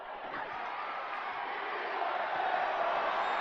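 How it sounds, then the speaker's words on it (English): Steady wash of arena crowd noise from a WWE 2K24 wrestling match, a dense continuous roar with a faint rhythmic chant of "We want tables" rising slightly toward the end, heard alone without commentary. "Crowd chanting, "We want tables.""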